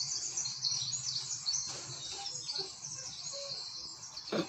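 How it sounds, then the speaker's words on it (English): Birds chirp in a forest setting in the Blair Witch video game, with faint high tweets and calls spread over a soft background of insect-like buzzing. "I hear a frog. And birds."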